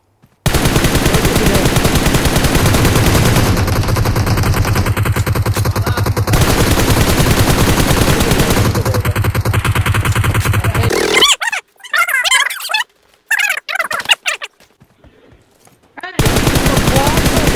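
Automatic gunfire from the PUBG Mobile battle royale game, loud rapid bursts running steadily through most of the clip, broken by a short stretch of scattered, choppier shots and gaps before the firing resumes.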